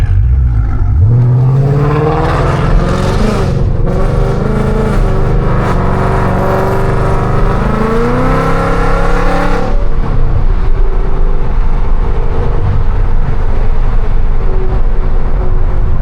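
A very loud catless Mustang 5.0 or Camaro ZL1 exhaust roars and revs up, the pitch rising and holding before dropping into a deep, rumbling drone; close and continuous, no speech.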